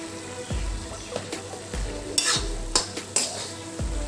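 Ridge gourd frying in a pan, stirred with a utensil that scrapes the metal in repeated strokes about every second, over a soft steady sizzle with occasional sharper clinks.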